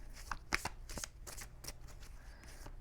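Tarot cards shuffled by hand, a close, soft riffle of quick papery flicks over a couple of seconds, quiet and unaccompanied.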